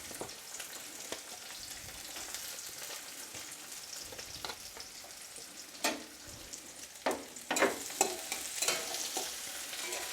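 Chopped onion fries in hot oil for a Bengali mixed vegetable dish, sizzling softly and continuously with intermittent scraping stirs that grow busier toward the end, close and fairly quiet.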